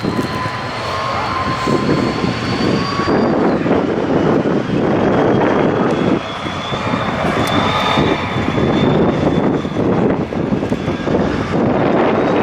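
A loud military aircraft engine roars steadily overhead for the whole stretch at a tank show, a rising whine running over heavy rumble and wind buffeting.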